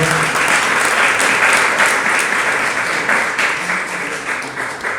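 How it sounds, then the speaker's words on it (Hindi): A crowd applauds at a public talk, a full, sustained burst of clapping that stays strong for several seconds before slowly tapering off. "ऐसी ताली बजाई जाती है, बजाओ, अच्छे से बजाओ।"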